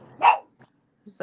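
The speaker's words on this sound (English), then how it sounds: "That was my dog. She barked." A dog gives a single sharp bark close by, followed by a short silence and the start of a man's speech.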